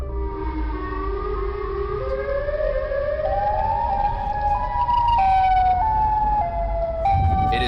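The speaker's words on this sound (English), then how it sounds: "two sirens lined with teeth, emitting sounds one would hear in an emergency broadcast" Siren Head, a creature with two tooth-lined sirens atop a pole-like neck, wails in rising and stepping tones like an emergency broadcast siren over a low rumbling bed, continuous and loud.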